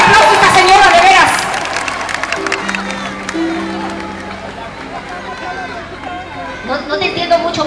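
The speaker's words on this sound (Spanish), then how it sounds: "Denle un aplauso a esta señora, de veras." Audience applause and cheering at a concert in Tampico, loud at first, then fading into crowd chatter with a few whoops and voices underneath.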